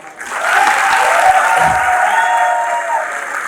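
Sustained audience applause fills a network marketing event hall, a dense steady wash of clapping from a large crowd that swells in and holds evenly throughout, with some faint voices mixed in.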